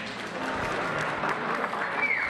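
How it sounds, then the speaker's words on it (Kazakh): Wedding guests applauding at a celebration, a dense continuous wash of clapping from a crowd, with faint voices mingled underneath. "Қол шапалақлар болсын."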